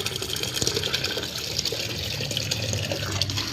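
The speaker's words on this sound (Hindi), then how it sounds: "ज़रा पानी डालें, क्या पता फ्रेश हो जाए" Water poured from a jug onto potted mint plants, a continuous splashing, gushing stream close by with no talk over it.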